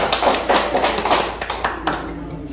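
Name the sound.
audience applause at gallery exhibition opening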